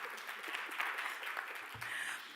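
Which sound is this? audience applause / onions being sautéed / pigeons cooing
audience applause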